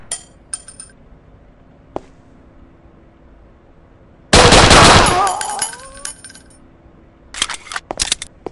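Pistol gunfire in the shooter game Sierra 7: one loud, close blast with a ringing, fading tail, then a few sharp, quick reports near the end, with near silence between.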